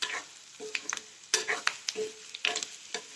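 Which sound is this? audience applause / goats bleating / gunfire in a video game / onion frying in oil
onion frying in oil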